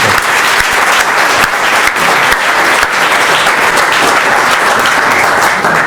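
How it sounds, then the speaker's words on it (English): An audience at a geology talk breaks into a round of applause, dense continuous clapping close and loud for several seconds with no speech over it. "I think we can all give another round of applause for a really interesting talk."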